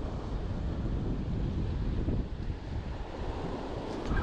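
Strong wind blows across the microphone outdoors while fishing for sheepshead near the water, a steady loud roar with gusty buffeting and a low rumble throughout.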